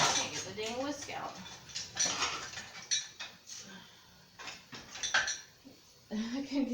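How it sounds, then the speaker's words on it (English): Someone rummages through a drawer of kitchen utensils to pull out a whisk, producing quiet, irregular metallic clinks and clatters in short bursts. "I'm going to take a whisk to it. Can't get the dang whisk out."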